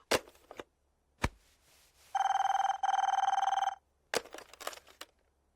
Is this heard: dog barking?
no